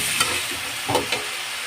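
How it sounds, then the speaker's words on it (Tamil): Brinjal and raw plantain pieces sautéing in a pan for a brinjal curry, a steady soft sizzle with a few brief stirring scrapes and clinks, close and moderately quiet, with no talking. "இப்போ அரிஞ்சு வச்சிருக்க கத்திரிக்காவையும் வாழைக்காவையும் சேர்த்துக்க போகிறோம். அதையும் நல்லா வதக்கி விட்டுக்கலாம்."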